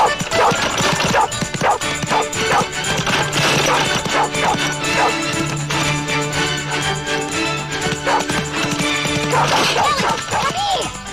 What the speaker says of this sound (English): Come here! Bad dog!